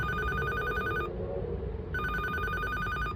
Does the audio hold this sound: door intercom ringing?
yes